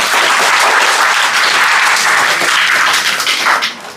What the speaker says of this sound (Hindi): तो 100 एसएसटी ईशान के लिए एक बार ताली दोबारा से बजा दो